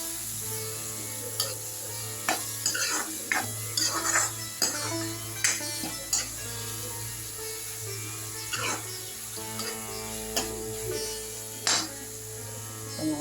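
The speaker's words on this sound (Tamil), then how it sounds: "இப்போ பாருங்கள், மஷ்ரூம் நல்லா வதங்கிடுச்சு, எண்ணெய் பிரிஞ்சு வருது பார்த்தீங்களா" Mushrooms sautéing in hot oil in a pan for a vegetable mushroom biryani, a steady soft sizzle with occasional stirring clinks and scrapes, close and moderately quiet throughout.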